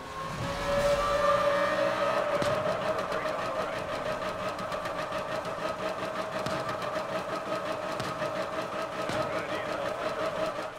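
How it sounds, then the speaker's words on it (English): A car in NFS Most Wanted running on its bare axles with all four tyres popped, a steady droning engine tone under a fast rattling, scraping grind, continuous and close. "All four of my tyres are popped. I'm running on the axle."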